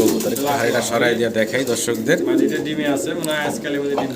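Pigeons for sale in a breeder's loft coo steadily and close by, with several birds overlapping throughout, while people talk over them.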